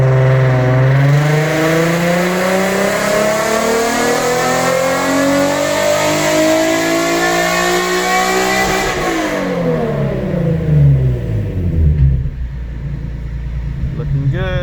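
A 2020 Nissan 370Z Nismo revs hard on a dyno, its loud engine note climbing steadily through the gears before backing off into a lower, rumbling idle-down with some clunks.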